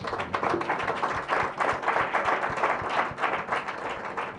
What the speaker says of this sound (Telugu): అన్న మనిషికి గట్టిగా చప్పట్లు కొడతారు